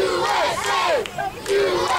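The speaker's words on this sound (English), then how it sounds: "enjoying the chant of the crowd." A pro wrestling crowd chants in unison during a match, loud rhythmic voiced calls rising and falling in repeated swells, close and dominant with no commentary over it.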